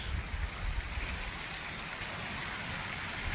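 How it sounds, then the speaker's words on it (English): Steady broadband rush of a small waterfall hidden among trees, heard from a short distance as a continuous even wash of flowing water with no voices. "here's our first sight of the second waterfall"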